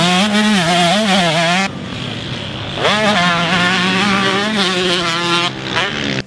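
A KTM 150 SX two-stroke motocross motorcycle screams loudly nearby, its engine rising and falling through revs, cutting out briefly and then revving hard again with a high, buzzy pitch.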